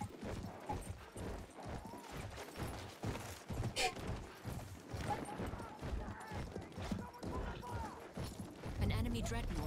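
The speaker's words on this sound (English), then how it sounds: "it's because I got on a horse." Hooves clip-clop steadily under continuous male chatter as a rider gallops on horseback in a combat video game, with intermittent mechanical clanks and creaks mixed in.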